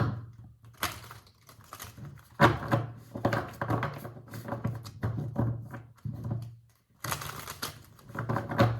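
Tarot cards are shuffled by hand in quick, crisp riffling bursts with short pauses between them. The sound is close and loud against a quiet room.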